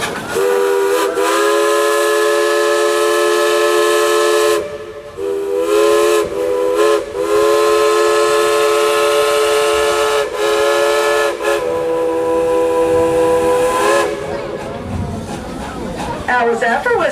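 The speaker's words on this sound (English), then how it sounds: "Please blow your whistle." Steam locomotive whistle at Dollywood theme park in Pigeon Forge, Tennessee, blowing long loud sustained chords with several short breaks, a crowd's voices faintly beneath and a brief hiss near the end.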